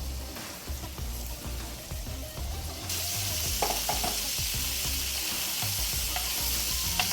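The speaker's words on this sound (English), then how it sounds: "And we're gonna leave it there to sear." Steak sears in a hot pan with a steady, crackling sizzle that jumps louder partway through, scattered pops over the hiss and no voices.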